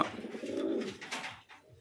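Soft, low cooing of fancy pigeons close by in a loft, a rolling coo followed by fainter calls, with light background noise.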